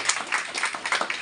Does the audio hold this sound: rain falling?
no